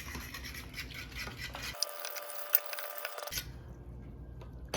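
A fork whisks a flour mixture in a pot, giving a quiet, fast scratchy scraping that runs throughout at close range, with a brief pause in the low hum partway through.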